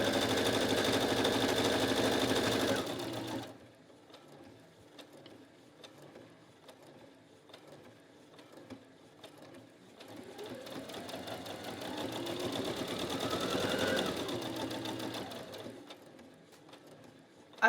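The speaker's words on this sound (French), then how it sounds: "Je vous propose d'écouter le bruit que fait cette machine à coudre aussi, pour vous rendre compte si elle est bruyante ou pas." A Brother FS40s electronic sewing machine stitches in two bursts, a fast even whirring hum that stops, pauses quietly, then starts again at a varying speed, with no talk.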